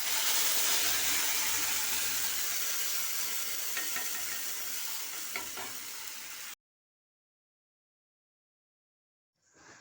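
Chickpea curry sizzles in a pan with tomato paste and whole spices, a loud, steady frying hiss with light stirring scrapes, then cutting abruptly to silence.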